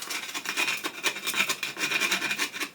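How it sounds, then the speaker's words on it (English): A cheap multi-function wood chisel scrapes old paint off a stone shelf in a bread oven, giving a close, gritty rasp in short repeated strokes at an uneven rhythm. "scrape off the paint. To reveal this lovely stone shelf."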